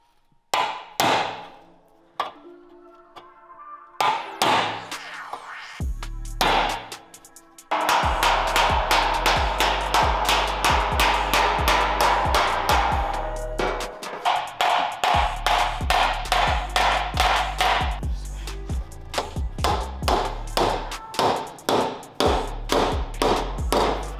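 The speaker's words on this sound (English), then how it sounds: "I'm gonna hammer that down a little bit." Repeated hammer blows on a handmade Porsche 911 slantnose bumper extension, a few sparse strikes at first and then a dense, steady run of loud metallic taps close by, with no talking.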